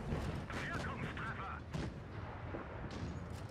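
Tank in the video game World of Tanks, an Maus firing HE shells: a couple of heavy, booming cannon shots with rumbling aftermath, moderately loud, over a steady battle din, with a voice talking over it.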